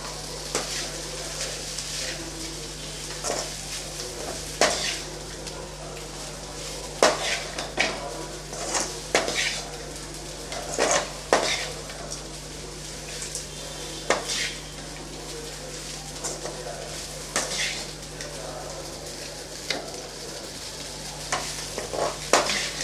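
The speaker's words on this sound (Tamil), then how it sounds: "சாதம் நல்லா கலந்து விட்டுக்கலாம்" Rice and dal being mixed with curry leaf powder in a metal pan, a steady scraping stir with repeated sharp clinks of the spoon against the pan over a low background hum, no talking.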